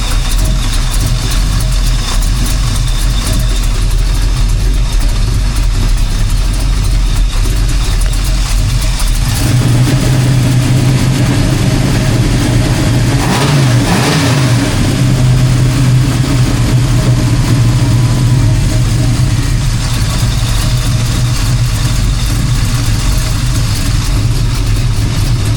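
A Chevrolet Nova's engine runs steadily and loud throughout, with a deeper, stronger throttle push partway through before settling back toward idle.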